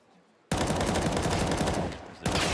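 A sudden loud burst of rapid gunfire in a Counter-Strike match between NAVI and Vitality, sustained for about a second and a half, dipping briefly, then resuming.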